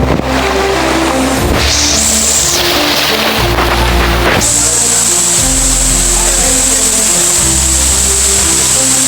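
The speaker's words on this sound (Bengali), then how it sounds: "দুই দিক দিয়ে পানি বয়ে চলছে, এদিক দিয়েও আর এই পাশ দিয়ে" Water rushing along the Napittachhora waterfall trail, a loud continuous roar with a hissy high band and some intermittent low rumbles.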